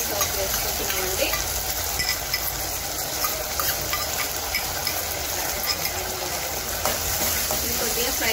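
Soya chunk pakodi fries with tomato sauce in a pan, giving a loud, continuous sizzle broken by occasional scraping stirs.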